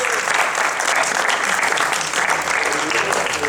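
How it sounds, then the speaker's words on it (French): A large audience gives sustained, dense applause at a prize-giving ceremony for a LAN gaming event, loud and continuous from start to end with no break. "Allez, on les applaudit une dernière fois."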